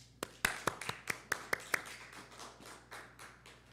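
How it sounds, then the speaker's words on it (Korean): A church congregation claps at a year-end Sunday service, a handful of distinct, sparse hand claps near the start that thin into a soft, scattered patter fading out. "박수 한번 해주시죠"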